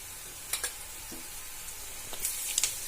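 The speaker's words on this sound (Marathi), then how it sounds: "बघा कांदा भाजत आलेला आहे" Chopped onion frying in a pan of oil in a home kitchen, with salt and turmeric added: a soft, steady sizzle with a few faint scraping stirs, quiet and close.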